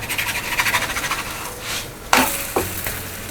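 A paneer paratha is flipped on a hot pan, with soft scraping and rubbing followed by two sharp close clatters as it turns over and settles into a quiet sizzle.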